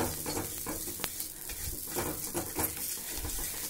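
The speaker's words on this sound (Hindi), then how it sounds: "अब इसको आपको हल्के से भूनना है जब तक ये ऐसे वाइट वाइट कलर के फूल ना जाए" Dankher, an edible gum, roasting in a pan for desi laddoos, giving a soft continuous sizzle and crackle with occasional stirring scrapes, fairly quiet and steady throughout.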